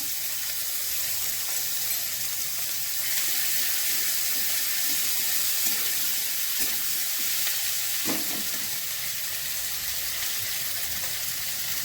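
Potatoes sizzle in a pan as onion and grated ginger are added for a fish-head and cabbage curry. The frying hisses steadily and close by, with a few soft taps and stirring scrapes.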